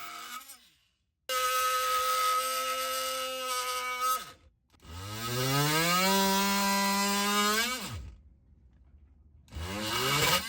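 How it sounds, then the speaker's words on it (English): An oscillating multi-tool cuts small wooden nubs off a lid in several loud, high-pitched buzzing bursts whose pitch rises and falls as the blade loads, with short silent gaps between them. "it was really easy to just, saw, I guess, to multi-tool down or to saw down and to get each one of these little wooden nubs off of the lid"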